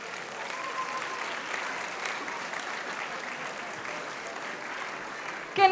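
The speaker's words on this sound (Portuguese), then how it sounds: "Mais uma salva de palmas para todos eles." An audience at the IberAnime Porto 2019 anime convention claps steadily for a group cosplay entry, a dense, even wash of applause heard from within the crowd, with no talk over it.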